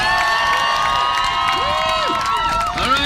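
Crowd at a political rally cheering and clapping steadily, with whoops and shouted voices sliding up and down over a dense, continuous roar.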